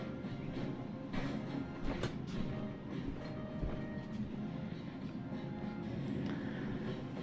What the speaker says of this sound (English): we're going to go and sew this right here down